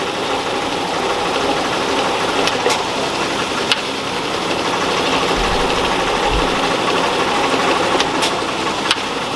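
A 727 automatic transmission runs on a dyno with the trans brake applied in first gear, giving a steady, loud mechanical engine drone with faint knocking and a few sharp clicks, no voices.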